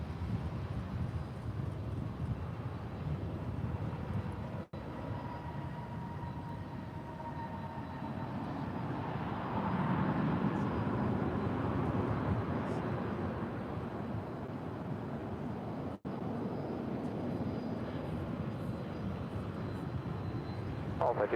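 An American Airlines jet in retro PSA livery, arriving from Durango, lands at DFW. A broad, distant roar swells through the middle and then fades, while voices talk throughout.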